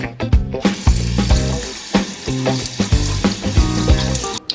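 Running water splashes steadily while a face is washed at a sink, close and continuous, with irregular splashing bursts as hands move through the stream.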